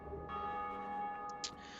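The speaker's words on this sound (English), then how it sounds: "So after you ring the second bell" Church bell ringing in the video game Dark Souls Remastered, a sustained resonant toll with long humming overtones, heard alone and steady, with a few faint higher clinks near the end.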